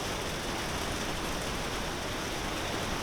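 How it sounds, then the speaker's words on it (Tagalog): Steady rain falls without a break, a dense, even hiss that stays the same loudness throughout and has no voices over it. "Umulan na."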